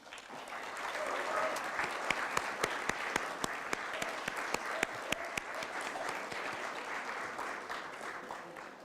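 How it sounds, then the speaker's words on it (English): Sustained applause from an awards-ceremony audience honoring a local awardee, a dense, steady wash of clapping lasting throughout, with a few sharper individual claps standing out near the middle. "a very shy and retiring woman who wanted that sustained applause"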